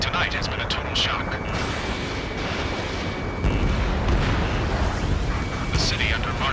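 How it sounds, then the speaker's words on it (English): Explosions and gunfire from the Ace Combat 7 video game, a dense continuous rumble of booms and crackling shots with heavier blasts in the second half, loud and sustained throughout. "gunfire and the roar of jets echoing through the streets"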